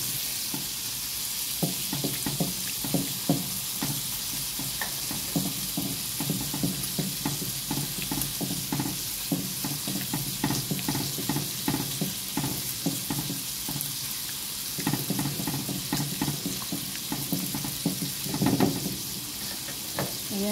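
Mushroom carbonara being stirred in a frying pan, a steady close sizzle broken by repeated scraping and clacking strokes of the spoon against the pan throughout, with no talk.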